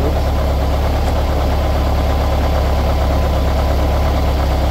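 VW engine with FiTech fuel injection idling with the idle speed plateaued, a steady close, loud, even rumble with a fine rhythmic knock and no change through the stretch.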